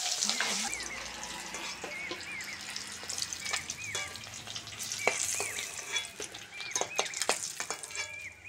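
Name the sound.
boiled eggs frying in hot oil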